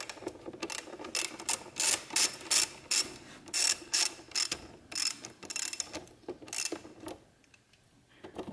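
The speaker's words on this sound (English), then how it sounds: "so next we want to take this hose clamp off of the stock airbox" A hose clamp being loosened on the stock airbox of a Kia Stinger GT2, a quick series of close ratcheting clicks in steady bursts, then slowing and stopping near the end.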